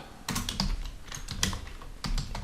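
Close-up typing of code on a computer keyboard: quick bursts of clicky keystrokes in uneven rhythm, with a brief lull between bursts and no voice.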